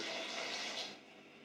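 Stock being poured into a sausage and potato casserole, a steady continuous splashing pour at close range that eases off toward the end, with no talk over it.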